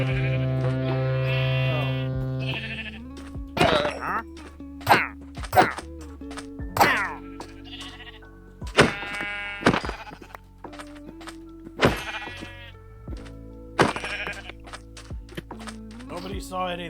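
Video game sheep bleat repeatedly in short, close bursts mixed with thwacking hits, set over a low sustained tone, while a voice talks throughout.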